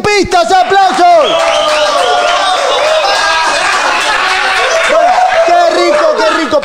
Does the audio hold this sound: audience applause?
yes